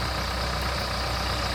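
A Bobcat 850B tractor engine runs steadily at a constant drone while clearing a new driveway, heard nearby and fairly loud, with no speech.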